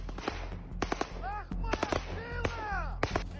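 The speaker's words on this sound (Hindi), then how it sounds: "चाहे गोलियां बरसाती राइफल हो," Rapid rifle shots crack in irregular bursts in the Russia-Ukraine war, with whistling high-pitched tones sweeping between them and a low rumble underneath.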